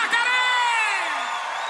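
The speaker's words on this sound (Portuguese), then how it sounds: "Palmas pra Jacaré." Loud crowd cheering and whooping for Jacaré at an É o Tchan live anniversary show, a brief dense swell of screams and applause with a high sustained whistle fading slightly.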